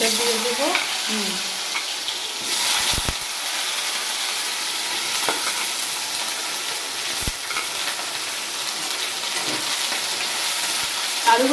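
Boiled potatoes fry in a pan for a cabbage and pea curry, a steady close sizzle with brief stirring scrapes and a faint voice at the start.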